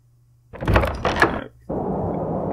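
The front door of a house in the horror game Murder House swings open with a couple of heavy thunks and a creak, then a steady hiss of ambience, no talk.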